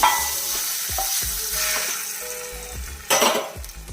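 Urad dal fries in a pan over a low flame, a soft continuous sizzle broken by stirring scrapes and metallic pan knocks, with a louder scraping flurry near the end, close and without speech.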